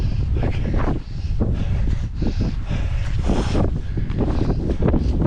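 Strong wind gusts across an open hillside on a Hadrian's Wall hike, a continuous heavy rumble buffeting the microphone with rising and falling surges, no talking.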